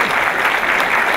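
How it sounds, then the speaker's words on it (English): Audience at an awards ceremony clapping in a short, dense burst of applause, loud and steady throughout. "A round of applause to Louise on my QVC moment."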